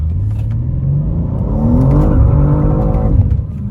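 A BMW M2 on new Vitour P1 tires accelerates hard in a test pull, its engine note loud and near, rising steadily in pitch over a few seconds before easing off, with no voices.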